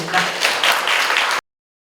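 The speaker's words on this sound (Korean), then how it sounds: "수고해주신 모든 분들께 다시 한번 큰 박수 부탁드립니다." Large audience applause at an anniversary symposium for a population health and welfare association, dense continuous clapping that cuts off abruptly.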